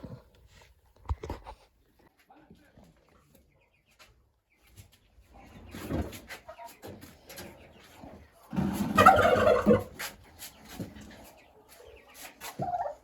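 Big-6 turkeys gobble and cluck nearby, swelling into a loud burst of gobbling midway, with a little talking mixed in.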